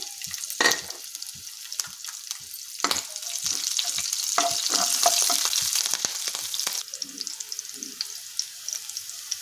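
Mustard seeds, cumin and green chillies fry in hot oil in a pan. A close, bright sizzle comes with dense spitting and popping crackles, a few louder bursts early, then a steady crackle that slowly fades.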